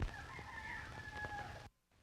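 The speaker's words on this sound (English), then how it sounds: "There's a rooster crowing." A faint rooster crows once in a drawn-out call from a distance in a 1932 film, with the sound cutting off abruptly near the end.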